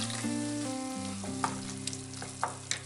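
Pumpkin being mashed and fried in a pan for a penne pasta sauce, a steady close sizzle with scraping stirring clicks, alongside a low tonal hum and occasional sharper knocks of utensil on pan.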